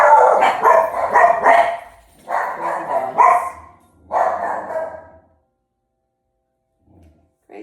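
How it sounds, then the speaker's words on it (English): Dogs bark in three loud, rapid bursts near a yoga class, the barking clustered over about five seconds before falling quiet. "Crazy dogs."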